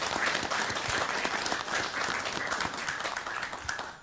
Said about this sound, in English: So can we just give them a round of applause, Paul?